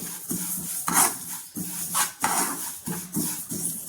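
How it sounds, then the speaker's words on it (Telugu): Sesame seeds are roasted on low heat in a pan and stirred, giving repeated scraping and clinking strokes of a utensil against the metal in a steady rhythm, close and fairly soft. "స్టవ్ సిమ్లో పెట్టుకొని ఇలా నువ్వులు వేయించాలండి."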